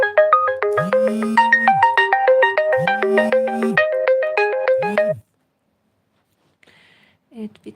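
A phone ringtone plays a bright, repeating melodic pattern with a low pulsing buzz for about five seconds, then stops, followed by a brief faint voice.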